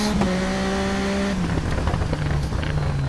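Racing motorcycle engine in the TT Isle of Man road-racing video game, a loud high-revving whine that shifts up through the gears, drops as the throttle closes and climbs again, with no talk.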